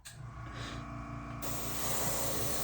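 An airbrush sprays black paint onto a model horse, a steady close hiss that grows brighter and louder partway through, over a low background hum.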